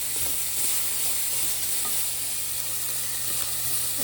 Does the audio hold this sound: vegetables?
yes